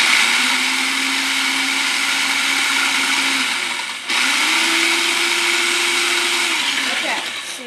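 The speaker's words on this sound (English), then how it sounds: "And then we're going to continue blending like this." A kitchen blender runs on guacamole ingredients with a loud, steady whir that cuts out briefly partway through, then starts again and keeps going strongly to the end.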